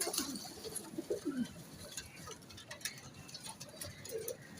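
Pigeons coo softly in low, throaty bursts, with faint rustling and a busy background around them.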